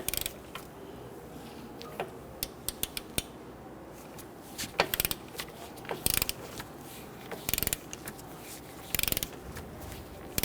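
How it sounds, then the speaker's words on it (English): A torque wrench ratchets on the knuckle nuts of a 2012-2019 Fiat 500 strut assembly, with sharp clicking bursts repeating at irregular intervals over quiet background, close and crisp. "Torque down the knuckle nuts here to 55 foot-pounds."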